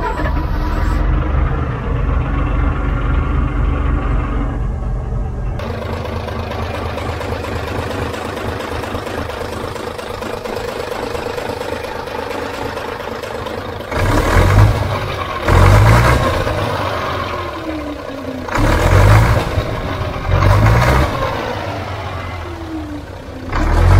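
Vintage road grader's engine, just freed of crud in the fuel tap, runs close and loud with a steady idle rumble, punctuated by several rising revs and surges.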